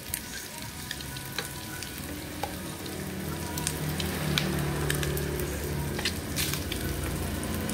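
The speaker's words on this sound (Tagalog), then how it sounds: "Naprito na yung mga egg" Eggs fry in a pan with a steady, crackling sizzle up close, popping and spitting throughout and growing slightly louder midway, with no talking.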